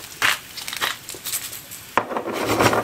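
Chestnuts stirred with butter in a hot frying pan, with a utensil scraping and clacking against the pan in uneven strokes and a louder rattling scrape near the end, close and alone.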